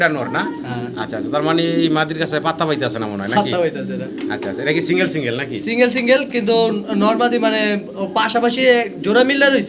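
Pigeons cooing in a loft, soft repeated coos blended with close, continuous talk between people.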